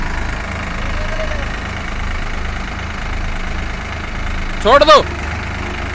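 Tractor engines, a Swaraj 744XT and a New Holland 3600, idle with a steady, low, throbbing diesel chug close by, broken near the end by a brief shouted voice.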